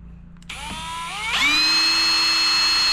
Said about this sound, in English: So I am going to drill a hole that matches this into this lid.